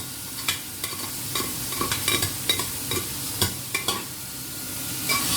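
Repeated metallic scraping and clinking of a utensil against a saucepan, scraping off stuck food, close up, with a faint sizzle underneath and no voices.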